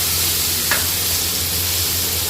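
Dal poured into a hot tadka sizzles with a steady broadband hiss and a brief splashy burst as it goes in, close and alone without talk.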